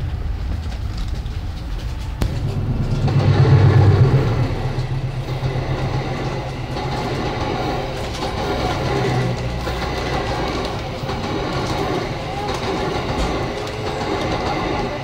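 Baturraden Ekspres business-class passenger train rolling along its Bandung–Purwokerto route, a steady close rumble with rhythmic wheel clatter throughout, swelling louder for a few seconds early on before settling into an even drone.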